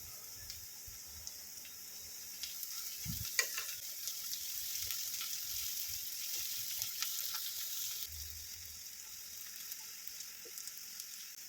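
Chopped onion with salt sizzling in a hot pan, a continuous high hiss with occasional soft stirring clinks and scrapes, close and fairly quiet, with no voices.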